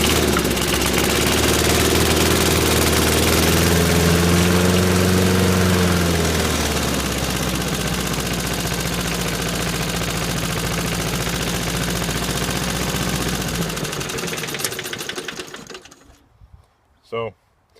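A Snapper lawn mower engine runs close and loud with a steady rough drone, its pitch wavering early on, before it cuts out and winds down, leaving near silence and a single knock.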